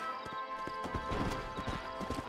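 Horse hooves clip-clop steadily in Red Dead Redemption, a close, even trot of repeated hoof strikes with a brief whinny-like tone mixed in, and no talking.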